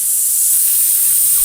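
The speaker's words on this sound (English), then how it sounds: "something green air spraying out of the opposite wall in your direction" Green gas hisses out of a wall trap in a fantasy dungeon, a steady loud spray that holds evenly from start to finish with nothing else over it.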